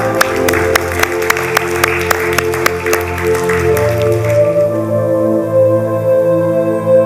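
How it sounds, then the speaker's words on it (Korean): Church congregation at a Sunday cell-church service claps in congratulation and encouragement, sharp evenly spaced claps in time with sustained keyboard or organ music that carries on as the clapping fades. "우리 서로 축하와 격려 박수하겠습니다."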